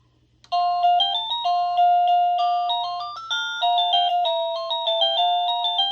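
An OhmKat doorbell plays one of its classical chime tunes, a clear electronic melody of bright stepped bell-like notes that runs steadily and loudly for several seconds with no talk over it.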